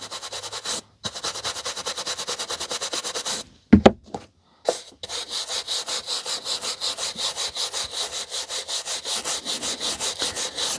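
A brush swept over vintage King vinyl records in rapid rhythmic strokes, a close dry scratchy swishing with a brief pause and some handling knocks partway through.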